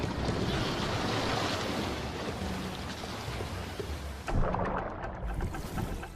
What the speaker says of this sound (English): a wind ruffles the sea